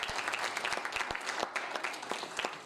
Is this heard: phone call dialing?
no